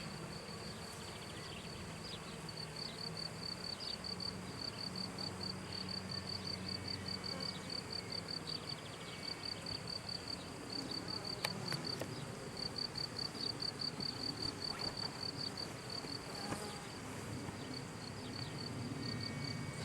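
Honey bees buzz during a hive inspection, with emergency queen cells being removed: a continuous, even drone that holds steady throughout, with faint occasional rustles beneath it.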